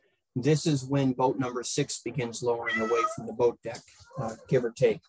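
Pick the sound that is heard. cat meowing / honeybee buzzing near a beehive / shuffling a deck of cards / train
cat meowing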